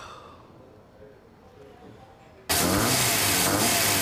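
A car engine with a cammy rattle, likely from a lumpy camshaft, starts and runs loud and steady after a quieter stretch with background voices.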